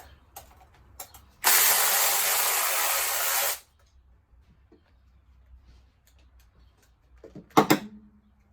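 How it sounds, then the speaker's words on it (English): A ratchet spins on car oil pan bolts in a steady two-second burst of fast clicking, close and loud, then quieter clinks and a couple of sharp metallic knocks near the end, with no talk. "So I'm just quickly taking this oil pan off, and we'll keep going."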